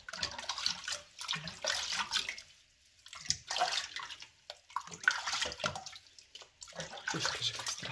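Tap water running into a sink while a Spitz puppy is washed, bursts of splashing flow broken by short pauses, close and moderately quiet, with no talking.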